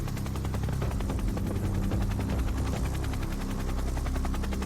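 An Indian Air Force helicopter runs steadily at a military helipad, its rotor thumping in a fast even chop over a dense turbine roar, loud and close throughout with no talk.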